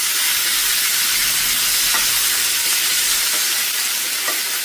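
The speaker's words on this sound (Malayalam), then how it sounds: "ഇനി നമുക്ക് വേവിച്ച് വെച്ച നമ്മുടെ പയർ ഇതിലേക്ക് ഇട്ട് കൊടുക്കാം. നല്ലതുപോലെ മിക്സ് ചെയ്യാം." Cooked green beans with onion and chilli sizzle and fry in a pan over high flame, a loud continuous hiss with faint scraping as they are stirred.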